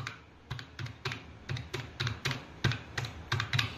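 An Aadhaar number is typed on a computer keyboard, giving a quick run of distinct, close key clicks in an uneven rhythm, with no speech over them.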